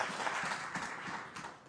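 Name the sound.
audience applauding themselves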